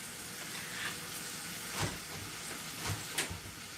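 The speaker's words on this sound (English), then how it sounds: "Just hearing that pan sizzle," A pan sizzles while pancakes cook, giving a faint, steady hiss broken by a few brief, sharper crackles.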